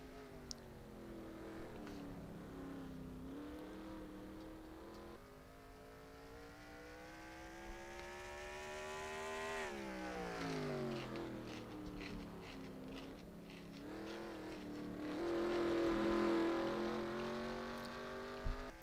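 Race car engines in the NR2003 racing game at Martinsville as the green flag drops, several engines droning and revving together, their pitch rising and falling through gear changes, fairly quiet and continuous.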